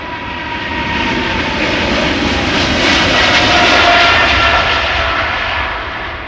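A KLM Boeing 777-300ER jet roars on takeoff at Amsterdam Schiphol Airport, a loud, broad engine rumble and hiss that swells to a peak and begins to ease, heard from nearby with no voices.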